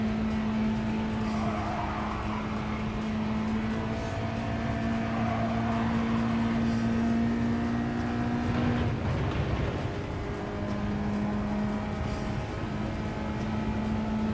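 A race car in Gran Turismo 7 drones steadily at high engine pitch, with a rough surge of tire noise partway through as it skids under braking, then the engine note carries on.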